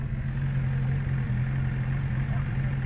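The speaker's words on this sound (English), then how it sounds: "Oh, it's a Suzuki Bandit, like Juan's." Suzuki Bandit motorcycle fitted with a Yoshimura exhaust, its engine giving a steady low idling drone, close and continuous for a few seconds.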